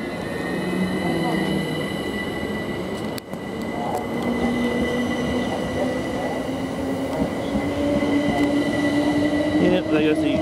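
A Southern class passenger train pulls out of East Croydon station toward London Bridge, a steady loud rumble with rail hum and a rising whine, continuous throughout and close by.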